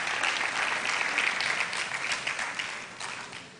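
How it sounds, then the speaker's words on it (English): An audience at a school quiz mentorship session applauds, a dense wash of clapping at moderate level that holds steady, then gradually tapers toward the end with no talk over it. "Another round of applause for him,"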